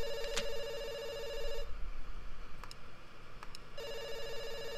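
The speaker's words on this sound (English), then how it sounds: "I just hope this phone isn't ringing in some empty room somewhere." A telephone rings inside a video game, loud and close, with repeating double bursts separated by a quiet pause and then resuming, and no talk over it.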